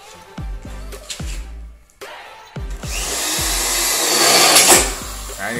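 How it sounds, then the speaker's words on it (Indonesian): A power drill bores a hole in metal gate framing for a home entrance gate. A few sharp taps and short tool bursts come first, then a loud, sustained whirring grind that builds and peaks before easing off near the end. "Titik ini gunanya untuk supaya mata bor ini nanti pas masuk di sini."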